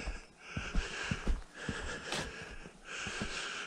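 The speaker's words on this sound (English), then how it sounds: "Sorry for the heavy breathing" Someone clearing snow breathes heavily and close to the microphone, with a quick run of labored, wheezy breaths and snorting exhales that swell and fade.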